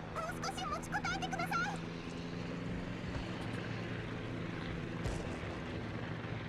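A squadron of propeller aircraft drones steadily in the World of Warships naval video game, a continuous engine hum with a brief chirping game effect at the start.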